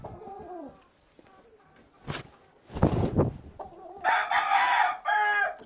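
A rooster crows loudly and clucks nearby, with short calls, a long crow in the middle and a bright crow near the end, with little talk.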